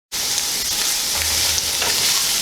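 Italian pork sausage cooks in a pan with a loud, continuous sizzle and crackle that starts suddenly and carries a low rumble partway through, with no talking.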